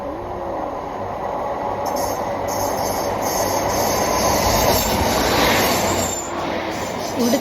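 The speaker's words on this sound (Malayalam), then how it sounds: "അപ്പം ഞാൻ ഒരെണ്ണം ട്രെയിൻ വെയിറ്റ് ചെയ്യുമായിരുന്നു, ഇപ്പോൾ ഒന്ന് പോയി" A train rolls past close by, loud and continuous, with wheel squeal and a rushing rumble that swells and eases over several seconds.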